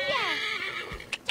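A horse in the video game Assassin's Creed Origins gives one close, loud whinny with a falling, wavering pitch, then two quick hoof clops sound.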